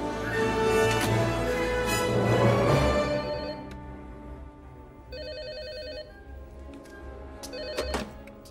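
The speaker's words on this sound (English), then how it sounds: "The phones are working." A telephone rings in the 1993 film Jurassic Park, first under a swelling orchestral score, then a clear electronic ring burst stands out alone near the middle before music and clatter return.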